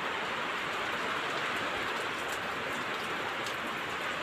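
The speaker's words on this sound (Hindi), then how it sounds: "अच्छी खासी बारिश हो रही है, आप देख सकते हैं" Heavy rain pours down with strong wind at night in Musapur, Vaishali, a steady dense hiss that stays loud and unbroken throughout, with no voices.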